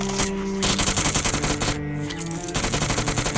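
Rapid automatic gunfire in the PUBG Mobile video game, with dense continuous bursts of shots that are loud and close, a brief pause, then more firing.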